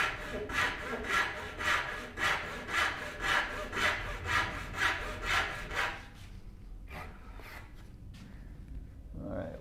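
Hand saw cutting through pine for a wooden cabinet base: about a dozen steady, rhythmic rasping strokes, close and fairly loud, that stop partway through and leave a few faint scrapes and knocks.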